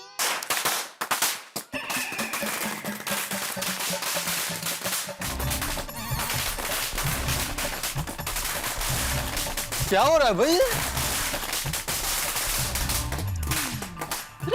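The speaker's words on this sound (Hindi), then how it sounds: "अरे पटाखे क्यों?" Loud firecrackers burst in rapid, crackling volleys with sharp whistling pops, and a voice is heard briefly among the bangs.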